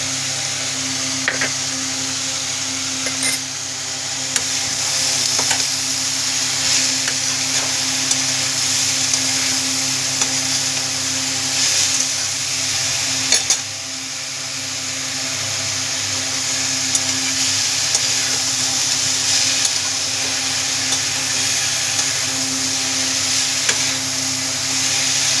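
Papaya curry with spices fries in a pan at home, a steady loud sizzle running throughout, with occasional scrapes and clicks from stirring and a constant low hum underneath.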